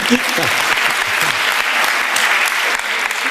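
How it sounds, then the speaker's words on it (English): A small audience claps in a warm, steady round of applause at a talk on cryptocurrency basics, continuous and fairly loud for the whole stretch with a voice faintly underneath. "let's give her a little round of applause."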